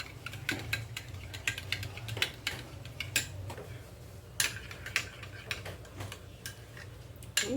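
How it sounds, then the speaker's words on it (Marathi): Yogurt is whisked with pink salt in a bowl. A utensil makes quick, uneven clicks and taps against the bowl over a low steady hum, with no talking. "त्यात थोडंसं हे पिंक मीठ टाकते मी ते टाकून छान आपल्याला फेटून घ्यायचं आहे दही"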